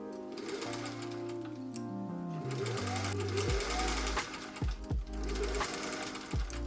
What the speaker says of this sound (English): And we are sewing this right sides together.